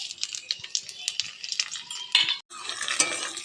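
Panch phoron with green and dried red chillies stirred in hot oil in a kadai: busy crackling sizzle with repeated scraping and clinking of a spatula against the metal, loud and close, with a brief gap near the end.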